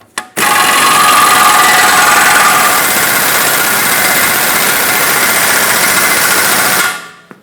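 A ball joint press forces a stuck ball joint out of a Ford E-350 suspension, giving a loud, steady mechanical grinding and whirring that runs continuously for about seven seconds before cutting off abruptly.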